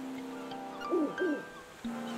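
Owl character from the video game Zelda: Link's Awakening giving two short wavering hoots close up, over a steady background game tone.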